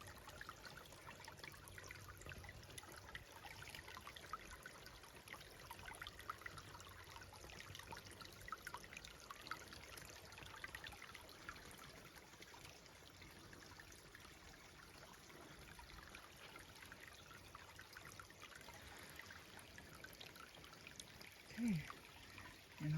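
A mountain creek runs over rocks along a trail, a faint, continuous trickling and rushing wash that stays steady and distant-sounding, with no talking over it.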